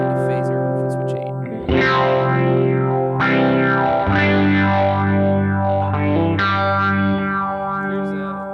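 An electric guitar runs through a Line 6 HX Stomp preset with tremolo and phaser, playing a series of wavering, echoing chords and notes that ring and overlap, loud and close with no talking.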